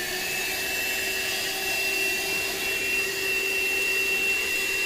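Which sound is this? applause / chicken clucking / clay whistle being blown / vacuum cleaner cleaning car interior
vacuum cleaner cleaning car interior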